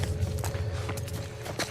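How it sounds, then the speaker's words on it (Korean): Footsteps of an enemy slowly approaching in an FPS video game, a run of soft, evenly spaced steps over a low rumbling background. "적이 천천히 가까이 오고 있다라는 발자국을 우리가 들을 수가 있어요"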